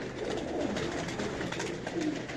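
Pigeons in a loft cooing softly amid low background ambience, a few murmuring coos spread across the moment, no talking.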